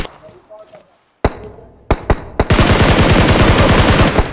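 Gunfire in the PUBG Mobile game: a few sharp isolated shots, then a rapid sustained burst of automatic fire, loud and close, with a player talking briefly at the start.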